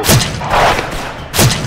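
Grenades explode in a shooter video game, two heavy booming blasts about a second apart with a rumbling thud between, loud and close, alone without talk.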